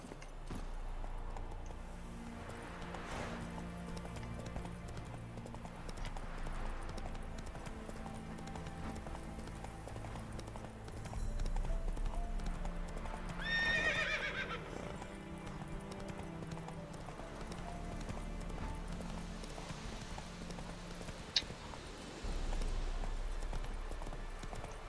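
Hooves of Geralt's horse gallop in a steady clip-clop rhythm through The Witcher 3, over a low droning game score, with a brief whinny midway.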